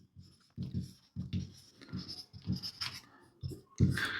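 Pen or marker writing values for a pie diagram during a maths lesson, in short separate strokes with gaps between, close and fairly soft.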